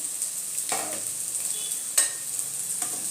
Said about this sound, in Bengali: ওই পিঠটা আমার লাল লাল করে ভাজা হয়ে গেছে